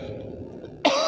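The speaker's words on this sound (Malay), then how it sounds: "nak batuk dulu" A single sharp cough, close and loud, cuts in abruptly after a low murmur of room noise and carries on to the end.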